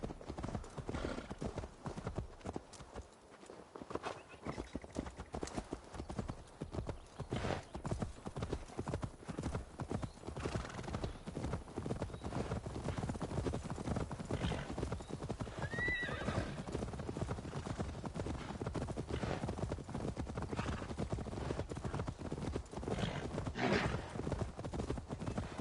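Horses in Assassin's Creed Valhalla clop steadily at a walk with an occasional neigh, close and moderately loud over a faint ambient bed, no voices.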